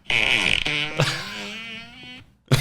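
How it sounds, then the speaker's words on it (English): A fart noise gadget plays a long, loud, buzzing fart sound effect with a pitch that wavers and drops, followed by a short second burst, close up and with no talking over it. "How many farts do you guys have? I have 40 because I have the premium version."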